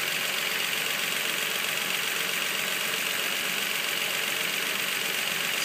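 A Nissan 3.5L engine idles steadily just after a timing chain replacement, giving a continuous, even running noise with a faint mechanical ticking throughout and no voices.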